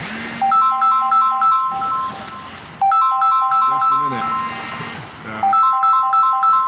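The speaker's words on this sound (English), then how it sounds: "I'm getting a phone call." A melodic phone ringtone from an incoming call repeats its short tonal phrase in loud bursts with brief gaps, while someone speaks briefly over it.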